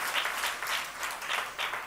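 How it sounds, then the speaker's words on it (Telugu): A church congregation claps together in praise during a worship service. It is a short run of rhythmic group applause, steady and moderately close. "నమ్మకం ఉంటే ఒకసారి చప్పట్లు కొట్టి దేవుని స్తుతించండి"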